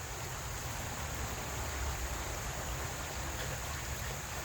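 Creek flowing in the woods, a steady broadband rush of water close by, continuous and even with no voices.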